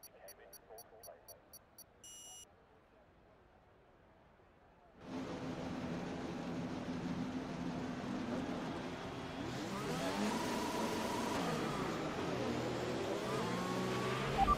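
Racing engine of an F3 car in the F1 2021 video game at the Mexico circuit, a quiet buzzing start that jumps to a loud sustained revving drone with rising and falling pitch sweeps, over a faint voice.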